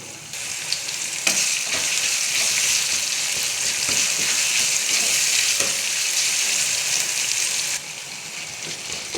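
Chopped tomatoes sautéing in a pan with golden-fried onion and garlic over a medium flame for mochai (field bean) gravy, a steady loud sizzle with occasional stirring clinks throughout.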